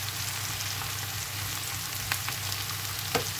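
Mushrooms and peppers frying in a pan give a steady, close hiss of sizzling oil, with a couple of faint stirring clicks toward the end.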